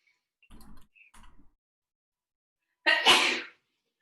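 After a couple of soft, brief noises, a single sharp sneeze bursts out nearby, loud and sudden against an otherwise quiet room.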